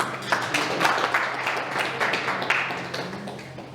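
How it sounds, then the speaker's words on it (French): An audience applauds after a startup pitch at a coaching session of the VITIB incubator, a moderately loud wash of many hands clapping that fades slightly toward the end. "on l'applaudit"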